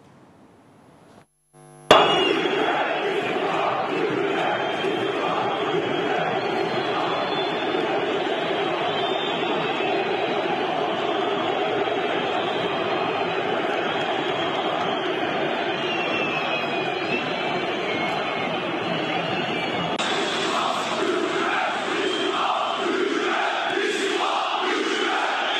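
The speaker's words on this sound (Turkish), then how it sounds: "Ama seyirci haykırdı." Football fans in a Turkish stadium shouting in unison: a massive, roaring wall of crowd voices erupts suddenly after a brief quiet moment, then shifts into a rhythmic, repeated chant near the end.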